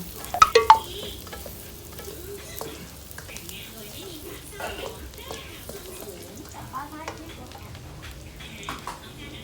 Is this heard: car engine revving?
no